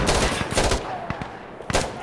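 Rapid bursts of gunfire in a first-person shooter video game, with several loud clustered shots early on and a few sharp isolated shots later, fairly close and without talk.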